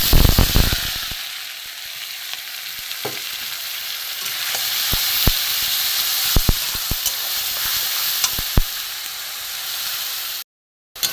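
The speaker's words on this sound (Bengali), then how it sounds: "পেঁয়াজ বাটাটা ভাজা হতে হতে" Onion paste frying in hot oil with whole garam masala spices for a duck egg korma, a loud continuous sizzle and hiss with scattered spatters and stirring clicks, ending in a brief cut to silence.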